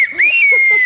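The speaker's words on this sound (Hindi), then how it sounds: "काश मैं भी ऐसी सीटी बजा सकता।" A single clear, sustained human whistle rises briefly, then holds a bright steady tone for under a second, close and loud, with faint murmuring underneath.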